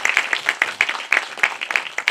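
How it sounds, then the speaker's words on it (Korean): Audience at a Seoul Independent Film Festival creators' forum claps for a film director, a dense continuous round of applause with sharp individual claps close by and no talking. "우리 장배 감독님께 박수 한번 부탁드립니다."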